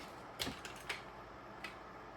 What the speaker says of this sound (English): Let's bust out the micro screwdriver set.